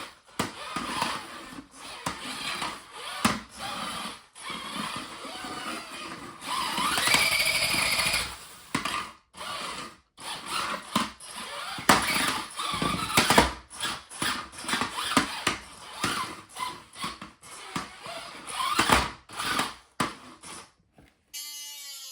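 A small beetleweight combat robot drives across the floor in short, jerky bursts, its motors whining and wheels rattling in rapid, uneven pulses with brief stops between runs.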